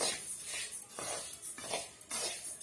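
Rice dry-roasting over a medium flame, stirred in a pan with a spoon, giving rhythmic rasping scrapes and light metallic clinks in repeated strokes, close by and without talk.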